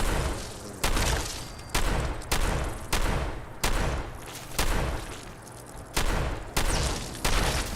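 A shotgun firing in Sim Settlements 2 for Fallout 4, with about ten heavy booming blasts at a steady rhythm a little under a second apart, each decaying before the next, loud and close.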